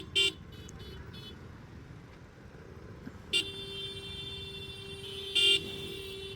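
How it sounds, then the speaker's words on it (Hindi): Car horns honk in heavy traffic on a main road in Bangalore, with three short, loud blasts at the start, middle and end over a constant roar of engines, and one long sustained honk stretching between the later two. "आपको ये हॉर्न सुनाई दे रहा होगा, अगर मेरे पीछे आप सुन पा रहे होगे,"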